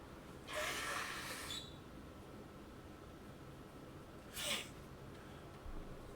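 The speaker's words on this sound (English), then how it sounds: "Hold on, I have to blow my nose." A person with allergies and a runny nose blows their nose: one long, forceful, airy honk up close, followed a few seconds later by a shorter second blow, with quiet room hiss between.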